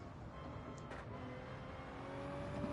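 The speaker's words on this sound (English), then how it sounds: "that classic Supra getting a little bit squealy through the section there" A Toyota Supra race car in Gran Turismo at Spa-Francorchamps drones along at steady engine pitch, with faint tyre squeal rising toward the end, moderately quiet and without talk.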